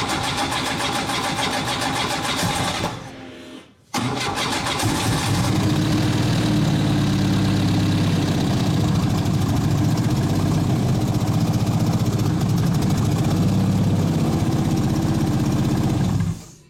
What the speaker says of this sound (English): it fucking starts right up. And idles nicely.